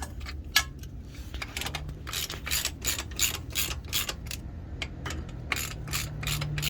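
A hand ratchet clicks in short, quiet bursts while tightening differential cover bolts on a semi truck, with light metallic clatter and gaps between strokes against a low background hum.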